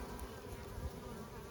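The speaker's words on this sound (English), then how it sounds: "I'll see if I can catch a couple bees bringing it in here." Honeybees buzz steadily at a hive entrance as foragers return with pollen in fall, a faint, continuous close-up hum with no voices.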